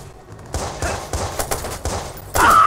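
Bursts of gunfire from the video game Watch Dogs, several loud, rapid volleys of shots in close succession, with the last burst louder and sustained.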